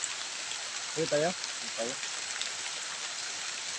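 Steady rain pours down outdoors as a constant broadband hiss, with two people briefly exchanging a few words partway through.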